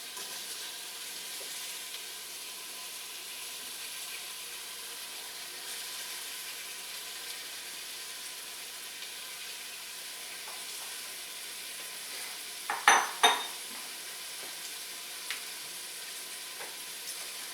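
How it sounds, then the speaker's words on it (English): Faint, steady frying hiss throughout, with a couple of sharper clatters midway and a soft knock later. "Sizzle, sizzle."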